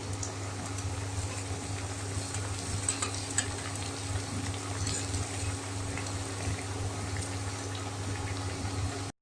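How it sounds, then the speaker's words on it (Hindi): Dough pieces for a Diwali snack fry in hot oil over a medium flame, giving a steady, close sizzle and bubbling with faint stirring clicks throughout, ending abruptly. "अब इन्हें मीडियम फ्लेम पर इन्हें फ्राई होने दीजिए।"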